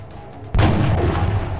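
A single loud weapon shot fired in X-COM: Enemy Within, a sudden heavy boom followed by a sustained rumbling tail, with no talking over it.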